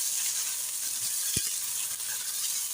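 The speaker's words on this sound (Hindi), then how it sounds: "घी हमने डाल दिया है एक बड़ा चम्मच भर के। अब इसके अंदर प्याज ऐड करेंगे।" Onions sizzle in hot ghee in a pan, a steady bright crackling hiss throughout with one soft knock of a utensil partway through.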